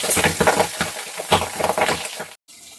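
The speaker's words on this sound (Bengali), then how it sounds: "মাছ এত পরিমাণে ফাটছে" Pabda fish frying in a pan with a dense, loud crackle and spatter in irregular bursts; the sound cuts off abruptly near the end, then resumes faintly.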